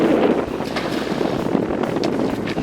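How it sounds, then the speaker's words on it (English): Wind blows over open water on a fishing outing, buffeting the microphone in a loud, continuous low rumble with no talking. "The wind's coming out of my face right here."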